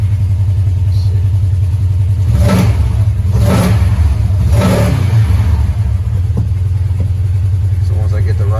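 A Polaris RZR KRX 1000 UTV engine idles steadily with three quick throttle blips that rev up and drop back, close by and loud; no talking over it.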